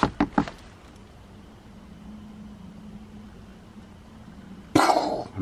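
Three quick knocks rap on a window right at the start, sharp and close. A low steady hum follows, and a loud rough burst comes near the end.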